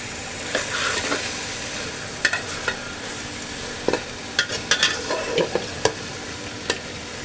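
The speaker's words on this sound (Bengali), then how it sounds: "এখন নেড়ে চেড়ে সরিষার সাথে মিশিয়ে নেব" Fried katla fish is stirred into mustard paste with green chillies in a pan, giving a steady soft sizzle broken by sharp, irregular scrapes and clacks of the utensil against the pan, with no talking.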